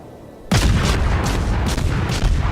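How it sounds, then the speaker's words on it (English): In World of Warships, German battleship cannons open fire with a sudden loud blast after a half-second lull, followed by sustained booming reverberation and further rolling shots. "I gotta say, the cannons sound pretty good by the Germans."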